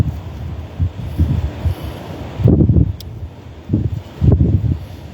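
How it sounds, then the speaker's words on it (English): Gusty wind buffets a microphone on a hiking trail, coming in uneven low rumbling bursts that swell and drop, with stronger gusts in the second half and no talking. "I mean, it's windy, not hot."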